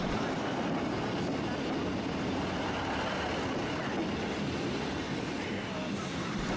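A train rumbles past close by at a railway crossing near Torquay, a loud, steady roar of wheels and carriages that fills the whole clip without letting up.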